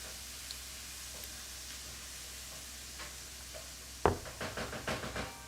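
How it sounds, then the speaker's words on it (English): Frying food sizzles faintly in a pan, a soft steady hiss with scattered ticks, then a sudden knock followed by a run of louder crackling pops and clatter near the microphone. "Hearing the frying sounds"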